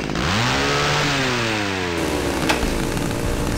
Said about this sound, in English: a very lanky chainsaw man.